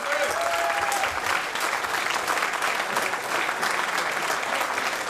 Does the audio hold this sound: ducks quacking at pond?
no